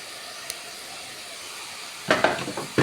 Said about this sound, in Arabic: هنزل كده انا بشويه بصل، كميه من البصل اللي انا فرمتها دلوقتي